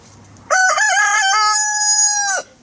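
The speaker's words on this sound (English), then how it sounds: "you can probably recognise each individual by the sound of his crow." A single rooster crows loudly and close by, one long drawn-out call that rises in a few quick steps and then holds a steady strained note before stopping cleanly.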